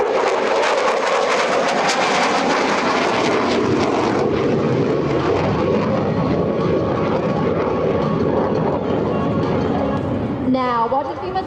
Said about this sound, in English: From your right, the F-16 and the knife-edge pass.